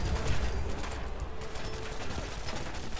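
Rapid repeated shots from an Assaultron head laser weapon in Fallout 4 crackle in quick succession over busy game noise, steady and fairly loud throughout.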